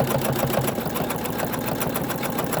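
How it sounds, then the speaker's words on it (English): An embroidery machine stitching a 3D star ornament in the hoop runs continuously with a steady, rapid, rhythmic mechanical chatter, close and even in level throughout, with no talking. "Now it's going to do the next stitch. It's just going to double it up to make it thicker"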